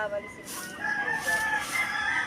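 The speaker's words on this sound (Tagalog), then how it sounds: "Ay ang manok pa." A rooster crows outdoors, a moderately faint drawn-out call rising and falling over breezy background noise.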